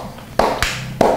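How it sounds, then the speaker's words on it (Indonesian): A few sharp hand claps from an audience at an Indonesian food reaction show, three separate bursts close by with no talk over them. "Boleh tepuk tangan."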